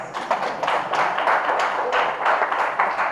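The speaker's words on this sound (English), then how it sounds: "Give her a round of applause." A small audience gives a round of applause, a dense burst of close hand clapping with uneven rhythm that holds steady for a few seconds.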